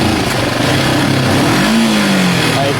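A Kawasaki ER5 motorcycle engine runs loud and close at half throttle, droning steadily with a hesitant, labouring note that rises slightly without clean revving.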